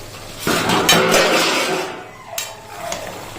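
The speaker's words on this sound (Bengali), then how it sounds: "মাংসটা মাঝে মাঝে নাড়িয়ে দিচ্ছি" Chicken kosha curry is stirred in a pot, a close metallic scraping and clinking of a utensil against the vessel in a couple of strokes, loud at first, then quieter.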